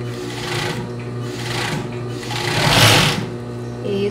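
Coverstitch sewing machine running steadily as it stitches fabric for underwear, a continuous close mechanical hum with rapid needle chatter that swells louder near the end.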